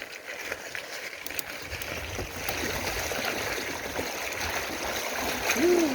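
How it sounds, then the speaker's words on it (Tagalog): The Puray river rushes and splashes steadily as people wade in, the flow swelling louder toward the end, with faint voices in the background. "Yung unang ilog na lulusungin natin."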